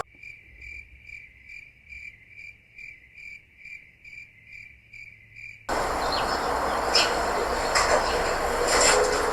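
A crickets-chirping sound effect used to mark an awkward silence pulses in an even, repeating rhythm for several seconds, then cuts abruptly to a louder, broadband background noise.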